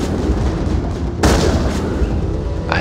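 Gunfire in the Mass Effect video game: a loud, steady wash of combat with a sharp burst of shots about midway and another crack near the end.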